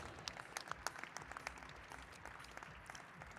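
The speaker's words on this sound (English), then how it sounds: "Round of applause for those riders." Audience applause for riders at an e-bike pacer race awards, a steady wash of many hands clapping at moderate distance, sustained through the whole moment with no voices over it.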